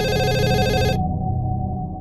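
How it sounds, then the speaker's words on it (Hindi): Telephone ringing in an office reception with a bright electronic ringtone that cuts off after about a second, leaving a low lingering hum. "और ये फोन कब से बज रहा है?"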